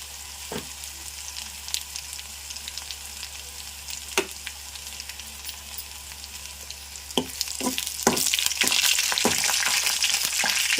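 Mustard seeds, cumin and dried red chilies sizzle in hot oil for a Telugu moong dal and cluster bean fry, a steady frying hiss with sharp crackles and pops that grows louder and busier toward the end.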